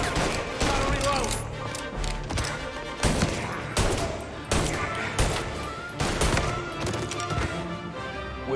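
Gunfire fills a shootout in Mafia: Definitive Edition, with repeated heavy bursts and sharp shots in uneven clusters, loud and close, over a busy background.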